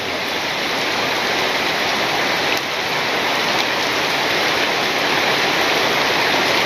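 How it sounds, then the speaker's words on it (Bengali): Heavy rain pours down in a village, with some wind: a dense, steady hiss of drops hitting surfaces, loud and unbroken, with no voices. "ভালো বৃষ্টি নামছে, হ্যাঁ।"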